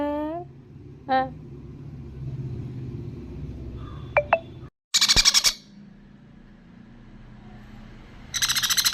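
Kiki, a pet bird, gives a few short, clear whistled calls resembling a phone ringtone, spaced apart over a low household hum, with louder harsh bursts midway and at the end.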